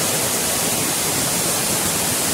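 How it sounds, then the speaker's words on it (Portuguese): A deep waterfall in a Brazilian neighborhood roars as a steady, dense wash of falling water, close and unbroken. "A cachoeira aqui, profunda aqui do bairro Progresso."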